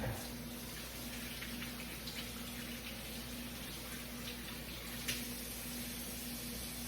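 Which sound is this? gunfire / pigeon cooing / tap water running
tap water running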